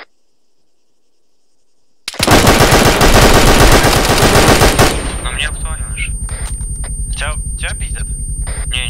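Dense automatic gunfire erupts suddenly in the Arma 3 military video game, loud and continuous for about three seconds, then shots continue in separated bursts.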